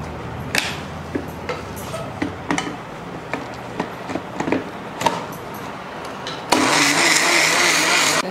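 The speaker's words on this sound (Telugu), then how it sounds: "నేను ఇది మసాలా రుబ్బేస్తాను" A mixer grinder grinds masala paste with garlic, loud and steady with rattling clicks through the run and a harsher, louder whirring burst near the end, no talk.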